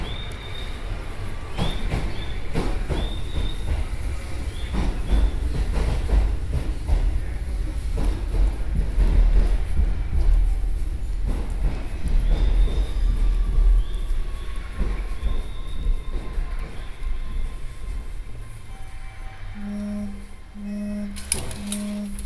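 A Keio Line 7000 series train pulls into an elevated station, a steady low rumble of wheels and motors with brief squeals and a closing electronic chime, heard close by.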